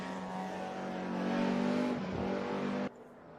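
A DTM race car from 1992 in the RaceRoom racing game roars at the Nordschleife, its engine held at a steady high drone under load before cutting off abruptly near the end.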